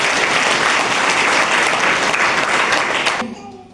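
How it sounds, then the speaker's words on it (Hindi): A congregation at a Sunday church service claps loudly and continuously for a few seconds, a thick burst of many hands that cuts off sharply, followed by a moment of quiet tone. "जोरदार प्रभु की महिमा के लिए ताली बजाओ।"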